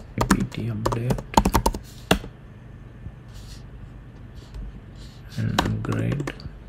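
Someone types a terminal command on a computer keyboard in a quiet room: brisk bursts of close key clicks with a pause in the middle, then a short final run of taps.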